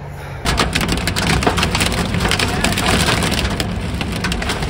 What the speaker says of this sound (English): Yeah, that was a hail.